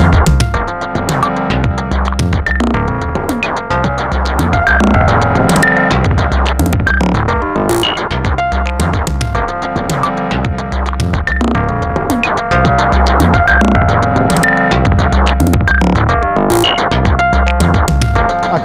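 An Elektron Monomachine synth track runs through an active compressor effect, giving a loud, dense, continuous tone with a steady throbbing pulse and sustained pitched layers.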